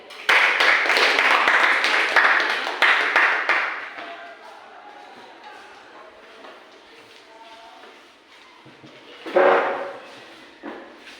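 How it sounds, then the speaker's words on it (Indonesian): Classroom applause for a student group after a presentation: a burst of clapping from students over the first few seconds that fades out, followed by quieter room noise, shuffling and voices in the background. "Oke, tepuk tangan untuk kelompok 3"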